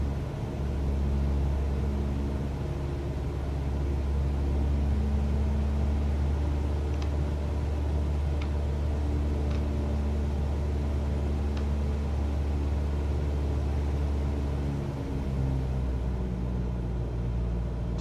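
A Cessna single-engine piston aircraft in flight in Microsoft Flight Simulator 2020, with a steady, continuous low engine drone and propeller rumble held at an even level throughout, with no talk.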